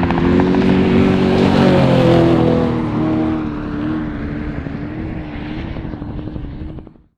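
An off-road race vehicle at the Mint 400 desert race roars past loud and close, its engine drone steady for several seconds with the pitch easing slightly as it goes by, then fading out abruptly.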